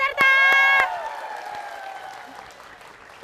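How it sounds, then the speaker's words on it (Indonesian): On a stage show, applause for all the contestants begins with a brief loud tonal cheer and a few sharp claps, then settles into softer crowd clapping that gradually fades. "tepuk tangan untuk semua peserta"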